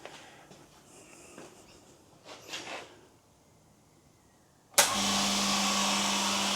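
An electric Chicago Air Hush 150 air compressor starts up abruptly after a few quiet seconds, then runs with a steady, even broadband whir and a low constant hum, moderately loud and close.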